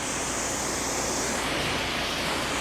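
A water hose sprays steadily over a car to rinse off dirt, a continuous loud hiss of spray close by with no talk.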